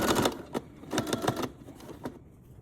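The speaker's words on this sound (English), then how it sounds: "I'm gonna do a straight stitch up this side as well" A sewing machine runs a straight stitch along a strap for a duffle bag, a fast mechanical needle chatter in short bursts with brief pauses between runs, close and fairly loud.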